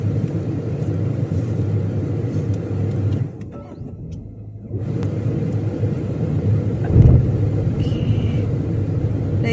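A Tata Punch car idles and pulls away in low gear, a steady loud engine rumble that dips briefly and then swells again with a short louder surge near the end, heard close from inside the car.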